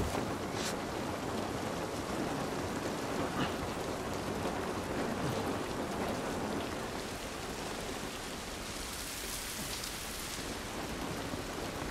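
Steady, even rainfall in the video game The Last of Us Part 1 patters continuously over a broad hiss, with no voices and no pauses throughout.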